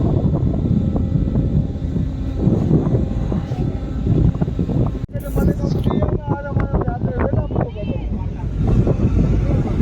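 Strong, steady wind roars across the microphone on the deck of a Ro-Ro ferry, with a low engine rumble beneath and voices briefly heard through the gusts.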